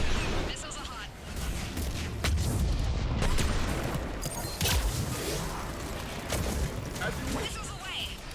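Missile fire and explosions in the video game Mass Effect 3, a loud barrage of booms and sharp gunfire-like cracks with rumbling in between, sustained across the whole stretch.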